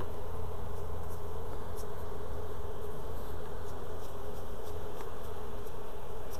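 Steady, close buzzing of honey bees during larvae grafting for queen rearing, a continuous droning hum with no pauses, heard alone without talk.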